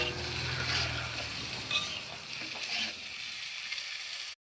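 Six boiled medium potatoes, cut and seasoned with turmeric and salt, frying in a pan, a steady, fairly faint sizzle with light stirring that cuts off abruptly.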